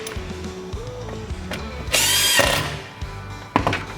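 A power tool tightens the ignition coil screws on a 70cc Perla Barb chainsaw, with short whirring and ratcheting spurts and one louder, longer burst, close up and with no talking.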